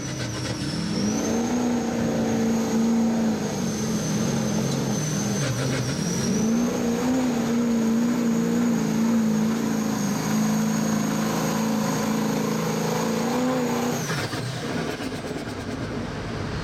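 A broken LBZ Duramax diesel truck, stuck in two-wheel drive, roars at sustained high revs through a sled pull, one long loud engine drone with a brief dip midway before cutting off near the end.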